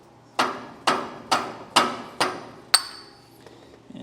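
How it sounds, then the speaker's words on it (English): Six sharp hammer strikes at a steady pace knock the dust cap off a 3,500-lb trailer axle hub, each blow a close metallic clank, the last one ringing brighter. "I'm going to get at it with this hammer real quick and we'll get this popped off"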